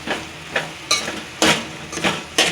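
Pudla batter mixed with chutney gives about six rhythmic, wet scraping strokes, close and fairly loud, each a short burst with brief pauses between, and no voices.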